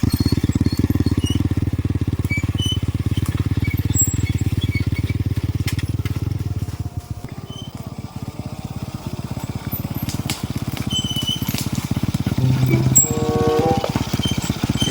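A motorcycle engine running steadily with a low, continuous rumble that dips briefly midway and then returns, close by and loud throughout, with scattered clicks and rattles over it.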